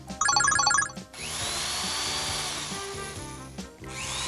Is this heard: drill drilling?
yes